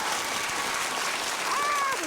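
An audience at a community meeting on a spot rezoning at Terwilliger Elementary applauds steadily, a dense wash of clapping with a voice faintly speaking underneath.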